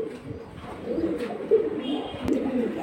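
High-flying Giribaj pigeons, including red Bajindar, mongoose-neck and silver birds, coo steadily in a loft, soft repeated low calls overlapping at moderate distance with faint chirps and no talking.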